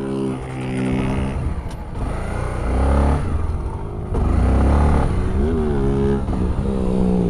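A 2020 Honda XRE 300 motorcycle with ABS disabled, ridden for a brake test: its engine drones close by, revving up and easing off with shifting pitch, then surging again louder near the end.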